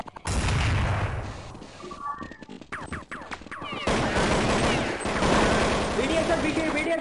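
Gunfire in a Counter-Strike 1.6 tournament match: loud, rapid bursts and single shots crack in quick succession across the whole stretch, with brief pauses between volleys.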